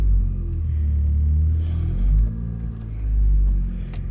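A Honda Civic fitted with new Precision Works engine mounts pulls away, its engine giving a steady low rumble that swells and eases as it drives off, close by and without speech.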